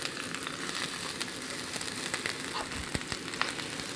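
Sliced plain yellow onions sizzle in hot oil in a cast iron skillet: a steady, close, bright hiss with scattered sharp pops and crackles.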